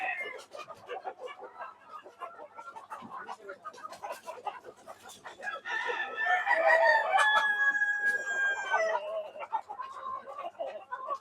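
Hens cluck steadily on a poultry farm raising Fayoumi and tiger chickens, then a rooster crows loudly and nearby in a long drawn-out call, with people talking faintly in the background.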